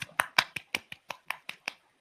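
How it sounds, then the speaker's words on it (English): Nine sharp hand claps in a steady, quick rhythm, close and clear against quiet, each a bright slap with a short decay. "I don't know if you can hear, but I'm clapping."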